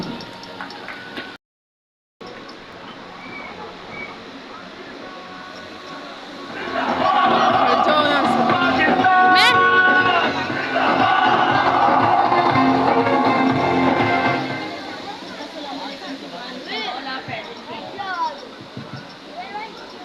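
An audience at a school function breaks into loud applause for a teacher, a broad wash of clapping and crowd noise swelling for several seconds mid-stretch, with voices and room sound before and after.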